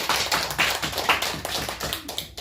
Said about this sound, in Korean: 할렐루야 박수 하시겠습니다